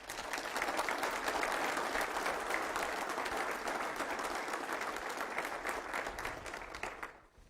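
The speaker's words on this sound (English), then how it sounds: "Let's give them a round of applause, please." An audience at a city council meeting gives sustained applause, many hands clapping in a steady, even wash for about seven seconds before stopping abruptly.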